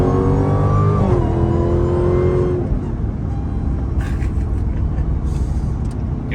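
A Dodge Charger Hellcat pulls hard, its engine rising in a loud, steady acceleration roar before settling into a sustained drone with road noise, and a voice briefly speaks.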